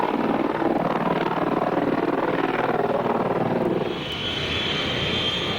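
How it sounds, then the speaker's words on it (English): A Super Stallion helicopter carries a slung LAV armored vehicle overhead, its loud rotor and engine roar holding steady before easing slightly quieter, with no talk. "The Super Stallion can lift the LAV for considerable distances, even refueling in midair to extend its range."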